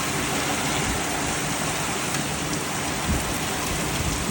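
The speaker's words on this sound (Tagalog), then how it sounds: "lakas ng ulan" Heavy rain pours down in a dense, steady hiss, loud and close, with no voices.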